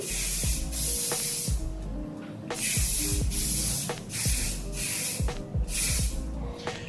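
Hair fixing spray from an aerosol can at a barbershop during a fade haircut, loud repeated hissing bursts in an uneven rhythm, close up with no talking.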